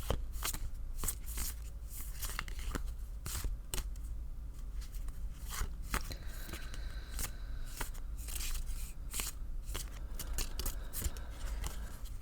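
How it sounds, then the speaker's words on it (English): Rapid crisp riffling and soft slaps of oracle cards being shuffled, repeating in quick bursts close by in an otherwise quiet room. "I shuffle until Spirit asks me to stop"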